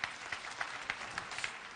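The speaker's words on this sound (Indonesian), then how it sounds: "Kita beri tepuk tangan untuk Tuhan Yesus." A church congregation at an evening prayer service claps for Jesus, a steady, fairly quiet wash of many hands with a few sharper claps standing out, heard at a distance.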